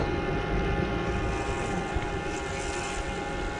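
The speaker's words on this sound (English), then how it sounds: "the sweet sound of this motor" A Luna folding electric bike motor pulls up an 18% grade on throttle alone at about 11 mph, a steady droning hum with a faint whine over continuous rumbling wind and road noise.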